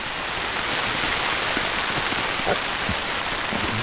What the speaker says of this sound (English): But this rain is just constant